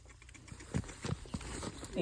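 A horse's hooves clip-clop in a few quick uneven strikes during a leaping display, moderately close and heard under a broad background din.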